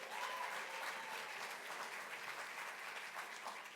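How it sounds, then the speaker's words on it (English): Sustained audience applause fills a gala awards night, a dense steady wash of many hands clapping at even loudness throughout, with no voices rising above it. "Now let's all give them another round of applause because they really worked hard"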